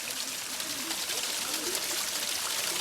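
Stream water flowing from a natural source outdoors in Lakudwadi, a steady broadband rush that stays even and close for the whole stretch, with no talk over it.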